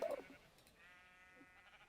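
A single faint sheep bleat from Minecraft, a short wavering cry over quiet background.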